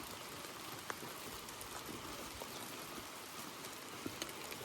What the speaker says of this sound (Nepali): एकदम पानी, मस्त पानी परिरहेको छ